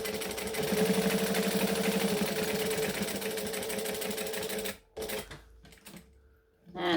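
A sewing machine stitches a bag in a steady, fast mechanical whir that runs loud for nearly five seconds, then stops abruptly. Brief softer handling noises follow in short bursts.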